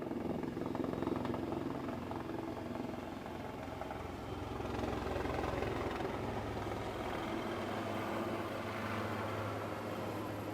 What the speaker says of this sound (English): the helicopter is doing a spiral up right, wherein the helicopter gains height as it turns